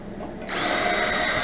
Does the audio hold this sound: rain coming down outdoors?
no